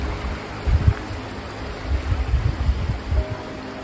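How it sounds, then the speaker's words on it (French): Gentle mountain river streaming downhill, a soft continuous rush of water with low, uneven gurgling swells, steady and unhurried throughout. "comme le son de la rivière qui ruisselle tranquillement, qui dévale la montagne."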